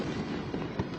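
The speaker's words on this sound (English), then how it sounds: "these are firecrackers going off now," Firecrackers go off during street protests in Los Angeles: a quick burst of crackling pops, with a sharper, louder bang near the end, and no talking.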